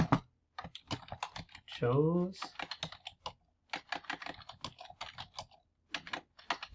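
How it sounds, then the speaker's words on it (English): Computer keyboard typing, clicking in quick irregular bursts close to the mic, with a person talking briefly partway through. "Okay, I'll start typing here."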